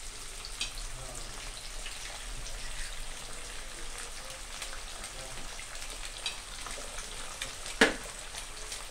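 An egg cracked into a pan beside vegetables for a simple fried rice fries with a steady, soft crackling sizzle, with one sharp, brief clatter near the end.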